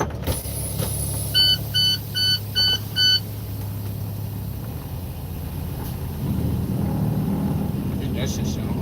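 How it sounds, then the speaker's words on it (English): A semi truck's APU (auxiliary power unit) powers up: a short series of electronic beeps comes first, then a deeper engine rumble swells in over a steady low idle hum. "Let me turn my APU back on."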